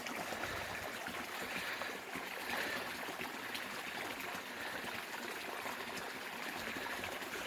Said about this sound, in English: to find a babbling brook out here is just great